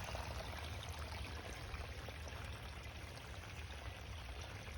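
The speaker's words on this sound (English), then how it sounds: "Nice little sound of the water running down over the rocks." Water runs steadily down over rocks in a small garden waterfall, a constant soft rushing and trickling wash heard close without any voices.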